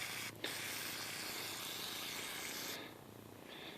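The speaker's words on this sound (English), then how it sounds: "I'm going to clean them with brake clean" Aerosol brake cleaner sprayed onto metal parts, a loud continuous close hiss with a brief break near the start, then dropping in level near the end, no talk.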